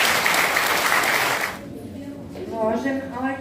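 An audience at a Roma majáles student celebration claps in loud, dense, steady applause that stops abruptly after about a second and a half, after which a voice speaks.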